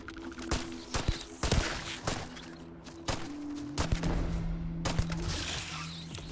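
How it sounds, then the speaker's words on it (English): A string of sharp gunshots fired at flowers in the video game Starfield, about a dozen close, loud cracks spaced irregularly over low ambient game sound. "I'm just shooting flowers out here."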